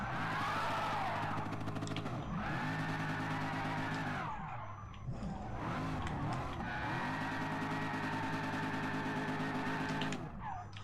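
A Gr3 race car in GT Sport weaving on track to warm its tyres, with a loud sustained engine drone and repeated tyre squeal and skidding as it swings side to side, briefly easing off midway.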